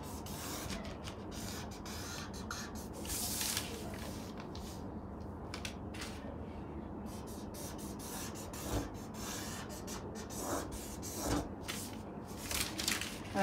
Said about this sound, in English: I'm marking out half an inch here, half an inch here, and I'm going to connect the lines.